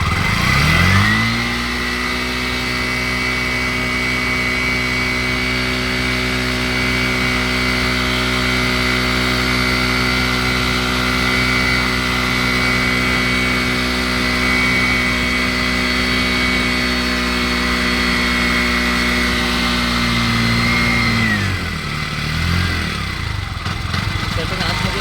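A CNG auto rickshaw engine, mid-tuning of its gas setting, is held at full throttle in a loud, steady, close-up drone for about twenty seconds before the revs fall away.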